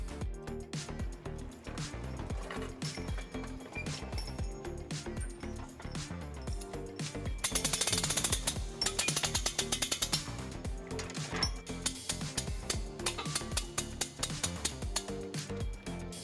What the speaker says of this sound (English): To raise this hitch into place, I will be using this U-Haul exclusive hitch jack.